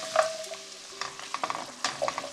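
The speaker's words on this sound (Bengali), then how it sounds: "মশলাও কষাই নিচ্ছি, স্লো হিটে রাখছি" Spices stir-fry slowly over low heat, a soft sizzle broken by scattered scrapes and taps of a spatula against the pan, near and fairly quiet.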